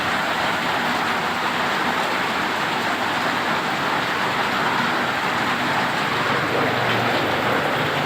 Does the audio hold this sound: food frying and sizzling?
no